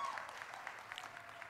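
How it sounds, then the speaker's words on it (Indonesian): Crowd at a phone product launch applauds a newly announced brand ambassador, a steady wash of dense clapping held at an even level throughout the short stretch. "Boleh tepuk tangannya?"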